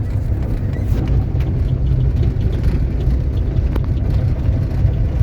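Air-cooled 1971 VW Beetle 1300 engine rumbling loudly and steadily from inside the car while driving and shifting into second gear, a constant close drone with faint clicks and no talking.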